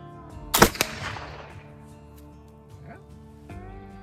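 Black powder test shot using 48-hour mill cottonwood charcoal, a single sharp nearby bang with a short ringing decay, followed by faint background sounds.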